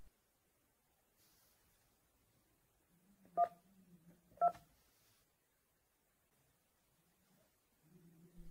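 Two short DTMF keypad beeps about a second apart sound while a Panasonic KX-TES824 phone system is programmed, set against quiet room background with soft handling noise.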